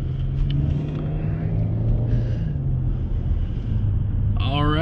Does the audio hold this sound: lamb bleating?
no